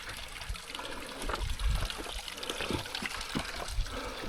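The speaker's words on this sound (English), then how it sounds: "But there is water coming down" Water runs down a rocky mountain gully in the Lake District near Scafell Pike, a steady close trickle and splash with small gurgles, alone and without voices.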